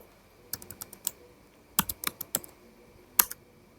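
Keys clatter on a computer keyboard as a terminal command is typed during a VirtualBox networking setup, in three quick bursts of close, crisp keystrokes with short pauses between them.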